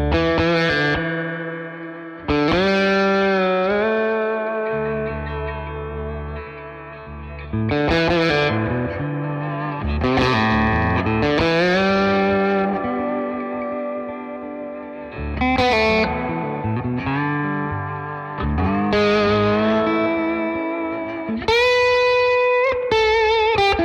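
A Fender Goldfoil Telecaster with a mahogany body and two Goldfoil pickups plays chords and riffs through distortion and modulation effects, loud and close, with ringing sustained strums and no talk.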